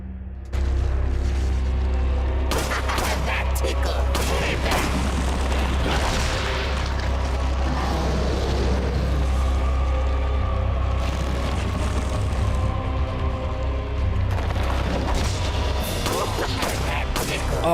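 Pistol fire in Resident Evil 4 on GameCube: repeated sharp gunshots and heavy booms ring out over a dense, rumbling game soundtrack, loud and close, with a few short bursts clustered amid constant background noise.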